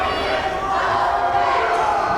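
A crowd at a high school boys' basketball game between North Rockland and Mamaroneck roars in a dense, continuous wash of shouting and yelling, loud and steady, with voices blending into the din.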